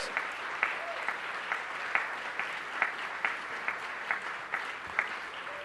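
Applause rises from the room at a city council special meeting, a steady, moderately distant wash of clapping with periodic louder claps repeating at a regular rhythm throughout.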